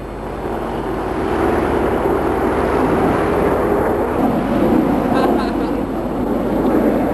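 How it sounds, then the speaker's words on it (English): Five aircraft fly overhead in V formation at about 4,000 feet above a tractor pull event, a loud continuous engine roar that slowly swells and drifts, with a commentator's voice over it. "The aircraft are flying at between 300 and 600 kilometers an hour, and you can see they take up a fair amount of sky."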